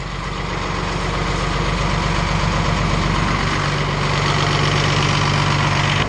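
White 100 tractor engine idling steadily just after starting, a loud, close, continuous low diesel rumble with a faint hum and vibration, no voices.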